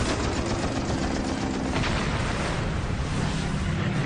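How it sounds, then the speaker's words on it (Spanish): Sustained machine-gun fire rattles from a World War II Marine fighter plane over Guadalcanal, a dense, continuous burst of rapid shots blended with engine roar and loud throughout. "Una ráfaga de las ametralladoras de Smith le lleva a conseguir la 4ª victoria del día."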